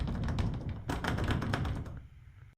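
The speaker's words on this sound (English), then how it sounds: "Go ahead and lock your door." A privacy door lock on an interior door handle is locked, producing a quick series of sharp taps and clicks followed by a firmer thunk, close and fairly loud, fading to quiet at the end.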